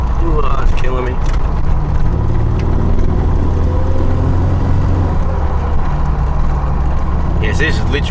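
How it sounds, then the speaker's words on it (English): An old V6 automatic car pulls along the road, its engine a steady, low drone heard from inside the cabin with road and wind rumble, while people talk over it. "She picks up alright, this thing, for an old sort of V6 auto."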